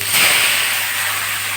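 Mustard greens drop into hot oil with bay leaf and erupt into a loud, steady, close sizzling hiss that holds evenly without a break.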